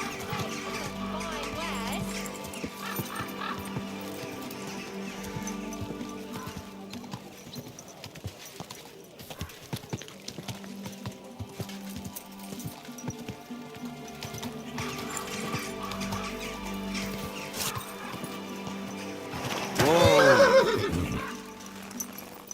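In the video game Kingdom Come: Deliverance II, rhythmic clip-clop of horse hooves runs throughout with background music, and a loud horse neigh rings out near the end.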